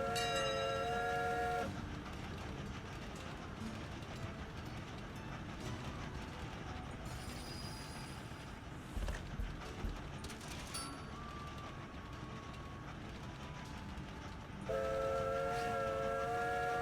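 Trains running in the video game Train Valley, with loud whistle-like tones at the start and end over a steady rumbling rail bed that continues throughout.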